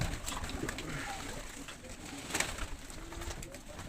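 Soft pigeon coos murmur low in the background amid ambient noise, with a few faint clicks and rustles.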